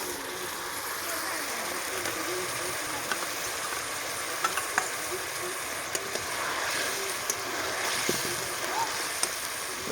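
Potatoes fry in spiced masala for cauliflower kalia, with a continuous bright sizzle and scattered sharp clicks of a spoon against the pan, nearby and fairly loud, and occasional faint talk underneath.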